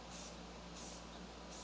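Clear enamel sprayed from a can onto plywood on a workbench, a steady continuous hiss in short bursts, close and fairly loud with no talking.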